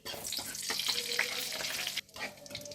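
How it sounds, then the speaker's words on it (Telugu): Mustard and cumin seeds fry in hot oil with a close, busy crackle and sizzle alongside stirring. The sound drops off sharply near the end. "ఆవాలు కొద్దిగా జీలకర్ర వేసేసి ఆవాలు చిటుపట్లు ఆడేంత వరకు ఫ్రై చేసేసుకోవాలి"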